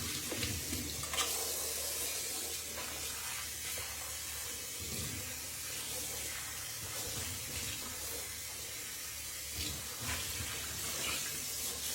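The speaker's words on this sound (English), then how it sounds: "Set your brush off to the side and rinse everything." Water running in a sink to rinse hot massage stones and a bucket, a continuous hissing stream with small splashes and knocks of stones and plastic shifting under the flow, no voices.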